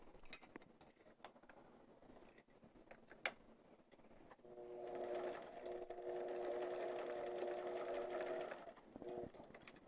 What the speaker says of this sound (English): we're just going to sew right down that edge